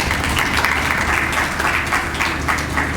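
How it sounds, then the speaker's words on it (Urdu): A church congregation at a Sunday service breaks into sustained, loud applause, dense clapping filling the room throughout with no break. "انتخاب کے لیے تالیاں بجائیں جی۔"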